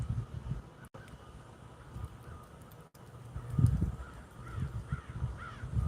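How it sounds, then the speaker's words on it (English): Crows cawing outdoors, scattered harsh calls in short bursts that grow busier toward the end, set against a low breezy rumble. "Listen to the crows in the background."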